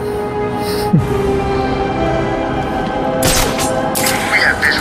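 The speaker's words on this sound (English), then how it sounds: "Visual on the explosion. Thermal scans show multiple detonation points." Explosions and gunfire crackle through the Batman Arkham City video game, with several sharp blasts and bursts over a steady loud background of game noise.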